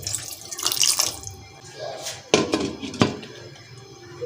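A small glass of water is poured into a cooking pot of potatoes for rice and egg biryani, a splashing, running-water sound with a couple of louder bursts, close and moderately loud, with no talk.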